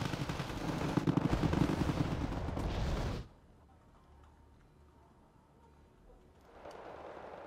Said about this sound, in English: there's APCs and Spetsnaz all shooting back